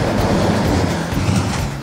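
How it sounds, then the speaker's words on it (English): Multi-trailer road train trucks, three and four trailers long, roar past close by on an outback road, a steady loud rumble with rattling across the whole clip and no voices. "Quite often those road trains, which are 3 and 4 trailers long, overtake the world solar cars."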